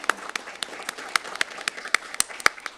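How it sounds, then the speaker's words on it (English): Sparse, scattered clapping from a small audience at a board of regents meeting, a few distinct claps spaced out rather than a full ovation, fairly quiet. "we'll give her a round of applause in her absence"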